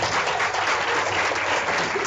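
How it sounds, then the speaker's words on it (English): Audience applause fills a street crowd, a dense, steady wash of many hands clapping at close range, loud and unbroken throughout with no talking. "Everybody in the street, give yourself a round of applause."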